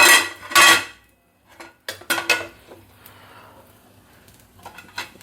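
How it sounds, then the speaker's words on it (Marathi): Metal kitchen utensils and pans clatter in sharp, scattered clanks while neer dosa is being made, with a couple of loud bursts early on, then quieter clinks and faint background noise. "भांड्यांचा आवाज होणार नाही असं किचन कुठलंय"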